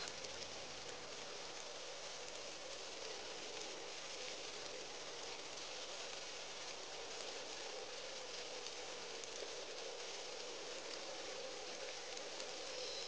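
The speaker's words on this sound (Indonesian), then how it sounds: "kenapa hujan segala sih?" Steady rain falling in the Sakura School Simulator video game, a continuous dense hiss that holds evenly throughout with no voices.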